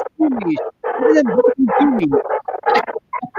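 A puppy barks and yips in a rapid, excited string of short, loud, close calls with whiny rising tones, almost without pause.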